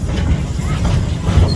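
A Busch Gardens safari-style train rolling along its track in Florida, a steady close rumble with faint rhythmic wheel clatter and no pauses.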